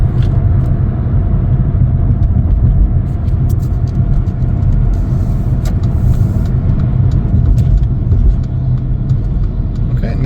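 A 2018 Mercedes-Benz CLA 250 on the move, heard as a steady, loud, low road-and-engine rumble from inside the car, continuous throughout with faint light clicks above it.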